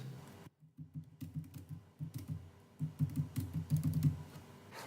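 Soft, close typing on a computer keyboard, a quick irregular patter of key presses in short runs, quiet and alone with no talking.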